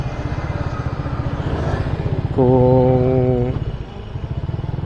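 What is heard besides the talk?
motorcycle traffic noise nearby on the road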